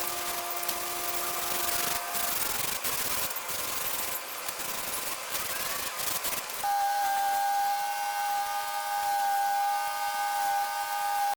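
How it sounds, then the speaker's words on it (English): Powered sander working over the superstructure of an 11-foot RC Tirpitz model, a steady close rubbing hiss with a shifting whine that changes pitch partway through, running continuously without talk. "After turning into a powered sander for a minute there"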